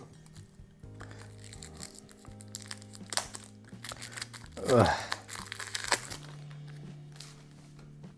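Paper wrappers crinkle and rustle in bursts as a Frostpunk board game box is unpacked, with brief louder crumpling midway and a voice speaking briefly over the handling.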